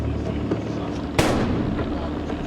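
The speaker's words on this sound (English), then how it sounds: "Now the device is isolated and destroyed with the help of the squad's robot." A bomb squad robot destroys a fake bomb device with one sharp, loud blast partway through, its rumble trailing off under a steady background noise.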